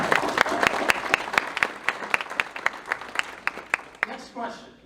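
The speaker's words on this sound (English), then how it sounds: "Round of applause for Catalina Park" Audience at a Republican club dinner applauding, crisp individual claps in a steady patter for several seconds that thin out and fade, with voices briefly underneath.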